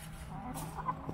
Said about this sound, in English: Oh, I found the chickens.